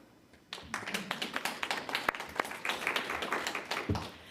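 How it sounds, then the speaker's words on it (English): An audience at a school board of education meeting breaks into a burst of applause, a dense run of claps that starts abruptly, holds steady for several seconds, then begins to thin out near the end. "You may applaud."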